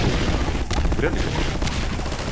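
Gunfire in the Garry's Mod video game, a couple of sharp shots in quick succession over a dense, noisy background of game effects.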